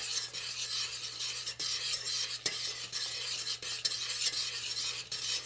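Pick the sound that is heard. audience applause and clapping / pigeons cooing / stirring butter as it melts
stirring butter as it melts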